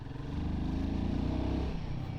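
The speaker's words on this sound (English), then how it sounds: "the engine definitely feels pretty good. It doesn't sound like it's really struggling." A Royal Enfield Guerrilla 450 motorcycle engine pulls away with a close, steady low throb that builds slightly and then eases off. No one speaks over it.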